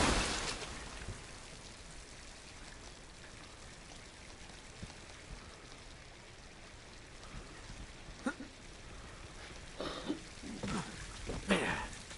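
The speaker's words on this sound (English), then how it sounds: "Damn, it's raining again." Rain in Uncharted 2 hisses as a steady wash of falling water, with a few louder splashes and drips near the end.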